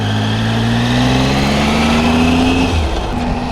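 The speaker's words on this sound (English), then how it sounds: "There's always a lot of motorcycles." Motorcycle engines on Arkansas' winding Pig Trail road, a close, loud revving drone whose pitch climbs steadily and then drops off as the bikes pass.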